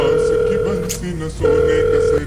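A telephone busy signal, a loud steady electronic tone pulsing in two bursts separated by a brief gap, over a low background drone.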